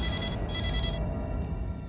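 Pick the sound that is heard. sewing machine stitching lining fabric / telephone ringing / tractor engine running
telephone ringing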